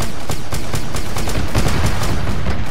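Sustained gunfire in the Arma 3 Warhammer 40K mod, with rapid, evenly spaced shots rattling continuously and loudly throughout, as from automatic weapons.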